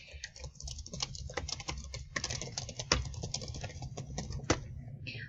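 Fingers type on a computer keyboard in a quiet room, a close, quick patter of key clicks in uneven bursts with a few heavier strokes, no voices.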